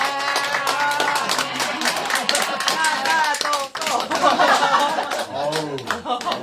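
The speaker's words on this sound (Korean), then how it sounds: "여러분 박수로 맞아주시죠." Audience at a climate-crisis lecture concert in a small bookshop and church courtyard claps to welcome a singer, steady dense clapping with scattered taps, while a voice talks over it and a brief sung note appears near the end.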